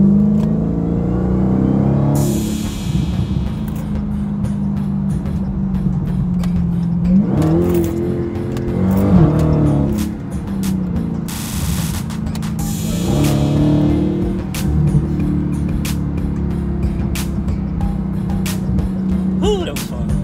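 A Dodge Hellcat's engine rumbles up close with several revving surges and bursts of acceleration over a steady low idle, with a few sharp clicks in between.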